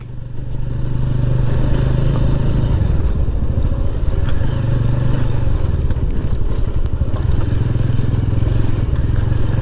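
A motorbike ridden off-road on a hill track around Ayodhya, its engine droning loud and close throughout with a steady low hum, rattling clatter and slight shifts in revs.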